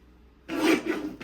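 A paper trimmer blade sliding through a sheet of 12x12 craft paper, giving one short, close rasping swipe after a quiet moment, with no voices.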